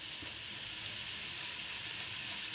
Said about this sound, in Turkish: kavurmaya çalışıyorum unu